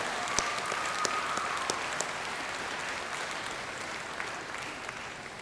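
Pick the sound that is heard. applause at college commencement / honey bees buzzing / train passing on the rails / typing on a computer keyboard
applause at college commencement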